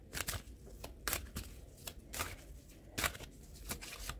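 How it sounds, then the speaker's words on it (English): A chakra oracle card deck is shuffled by hand close up, with crisp riffling bursts and soft card slaps recurring in quick, uneven rounds. "Let's check with the oracle cards from the chakra deck."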